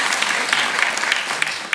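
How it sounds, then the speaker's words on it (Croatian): Audience applause at a stand-up comedy show, a dense patter of clapping from a live crowd that runs steadily through the short clip with a few sharper claps standing out. "Dajte aplauz ako znate."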